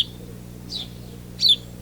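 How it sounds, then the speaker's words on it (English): House sparrows cheep from a honeysuckle bush, two short, bright calls about a second apart over a low, quiet background. "our attention goes to loud, repeated peeps or cheeps, made by several brown sparrow-like birds flitting about in a honeysuckle bush"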